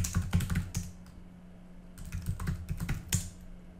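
A password is typed on a computer keyboard in two quick bursts of close, crisp key clicks separated by a brief pause, with a low steady hum beneath.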